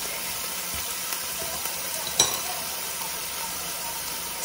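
Rice noodles and vegetables frying over high heat in a pan, a steady, soft sizzle with a faint hiss throughout and one brief sharper crackle midway.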